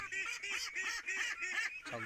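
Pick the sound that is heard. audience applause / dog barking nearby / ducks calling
ducks calling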